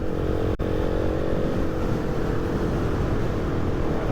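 Motorcycle riding on a rally trail, a steady, loud engine drone mixed with wind rush, with one brief dropout near the start.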